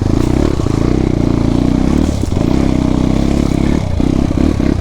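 A 220 motorcycle runs loud and steady close by, its engine droning with revving surges and a brief dip midway, joined by some clattering and scraping.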